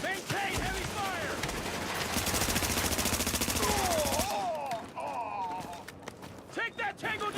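Heavy gunfire in the video game The Division comes as a dense, loud burst of rapid automatic shots for several seconds, then thins to scattered shots while excited voices shout over the combat.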